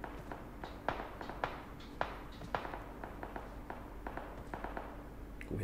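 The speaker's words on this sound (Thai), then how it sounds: "เฮ้ยเสียงปืนใกล้ ๆกูอยู่" Nearby gunfire in the mobile battle-royale game PUBG Mobile sounds as a scattered series of sharp, fairly faint shot cracks, irregularly spaced over a low background rumble.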